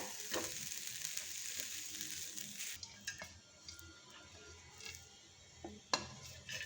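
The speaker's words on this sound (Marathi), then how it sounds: "आपण तव्यावरती कांदा टाकला आहे भाजायला" Onion roasting on a tawa griddle while preparing dhaba-style rajma masala, a soft steady sizzle with occasional sharp clicks and scrapes from handling, close by and fairly quiet.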